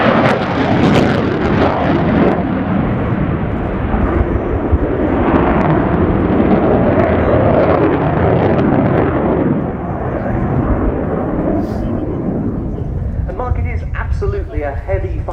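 A Ukrainian Air Force Su-27P1M Flanker fighter jet roaring through a flying display at RIAT, a loud sustained rumbling engine roar, with a voice talking faintly toward the end.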